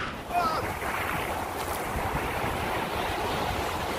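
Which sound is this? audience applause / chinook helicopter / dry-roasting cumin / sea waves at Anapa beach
sea waves at Anapa beach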